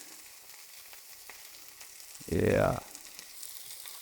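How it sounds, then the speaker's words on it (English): Meat searing in a black carbon steel frying pan gives a short, loud sizzling burst of under a second against a quiet kitchen background, with a brief spoken word at the start. "I'll sear the sides as well, but that is such a beautiful sear."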